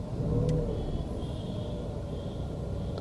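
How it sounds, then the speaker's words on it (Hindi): A 2023 Tata Tiago XT idles with its improved engine, heard from inside the car as a steady, close low rumble with a faint high whine, no voices. "इंजन नॉइस के अंदर भी फ़र्क है।"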